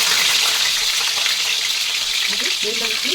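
Cut brinjals (eggplants), drained of their soaking water, hit hot oil with a loud, steady broadband sizzle that fills the whole stretch, with a few faint clanks near the end.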